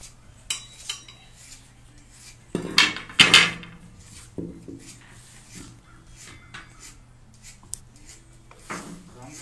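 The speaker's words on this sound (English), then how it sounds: "So I'm gonna hold it and you just hammer on like the highest spot." Hammer blows on a soft metal digging fork being straightened at a tool repair workshop, a few sharp metallic clanks clustered near the start with lighter taps scattered after, close by, under low background noise.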